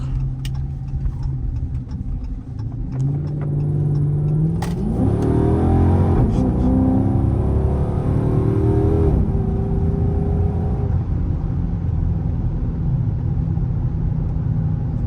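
Dodge Charger accelerating on a test drive after a lower control arm replacement, heard from inside the car as a steady engine rumble that climbs in pitch as it revs up, then settles into a continuous cruising drone.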